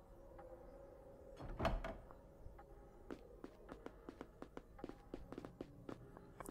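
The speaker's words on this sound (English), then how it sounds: "God, it takes ages to walk through doors." Footsteps and a door opening in a Harry Potter video game: a soft sliding door sound near the start, then a quick, fairly faint run of footsteps.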